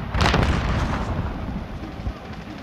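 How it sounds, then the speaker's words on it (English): A flashbang grenade going off in Call of Duty Warzone, a loud, sharp blast followed by a rolling rumble that fades over a couple of seconds, with no talk. "Flashbang out. Got one flashed up there."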